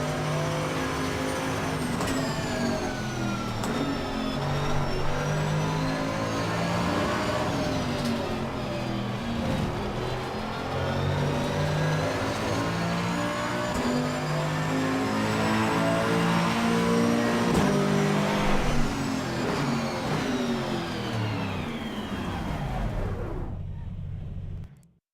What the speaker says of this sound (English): Just inside here, it really sounds like the regular GT3 car.